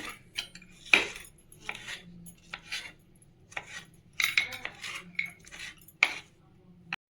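A knife cuts two small tomatoes in a home kitchen while making egg gravy, giving faint, scattered clicks and taps of the blade against the board and dish, with quiet gaps between the strokes.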